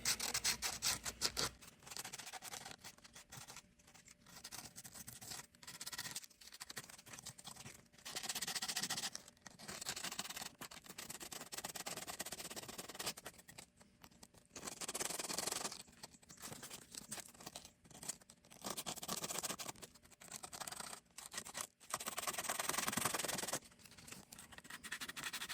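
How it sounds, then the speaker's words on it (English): Sandpaper rubbing and scratching along the edges of an epoxy board, a steady run of gritty rasping strokes in bursts, close up with no talking. "I'm going to take some sandpaper and squeeze in there and kind of clean up my lines a little bit."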